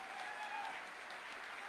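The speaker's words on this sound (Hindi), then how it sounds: "एक बार जोरदार तालियों के साथ" A large audience at a corporate grand summit claps together in steady, dense applause that fills the whole moment at a fairly soft, even level.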